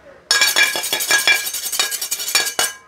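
Metal spoon from a dinner set clinking loudly and close, a rapid uneven run of bright chimes and rattles against dishes lasting a few seconds.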